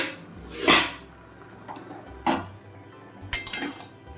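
A lid comes off a pot of Bengali Malabar spinach (pui shak) chorchori cooking on the stove, making three quiet metallic clanks and clinks spaced apart over faint kitchen background.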